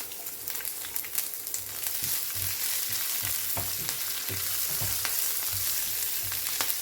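Garlic and chili fry with mustard seeds and urad dal in hot oil for raw mango chicken chitranna, a dense continuous sizzle with scattered pops and spatula clinks, close and steady, no voices.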